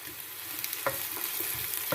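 Onion frying in a pan gives a steady, close sizzle, broken by a few scraping stirs, with no one talking.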